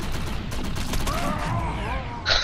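Rapid video game gunfire crackles in a steady, loud stream for a couple of seconds, with faint voices mixed in underneath and a sharper burst at the end.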